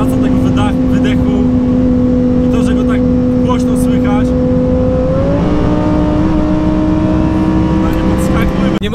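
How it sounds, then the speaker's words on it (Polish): A Lamborghini Huracan Performante engine drones steadily and loudly, then rises in pitch as it revs up, with a throaty exhaust note under faint voices. "Niesamowity dźwięk. Praca tego wydechu."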